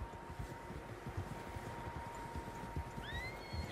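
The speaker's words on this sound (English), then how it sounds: "Horses, quite a few of them." Several horses clop along at a walk in the video game Red Dead Redemption 2, hooves thudding in an uneven rhythm under a faint steady outdoor ambience, with a short whinny near the end.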